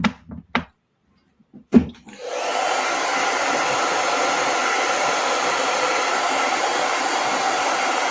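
A hair dryer runs steadily for about six seconds after a few short knocks and clicks, blowing on paint on a painted piece; a loud, constant whooshing hum that stays close and unbroken.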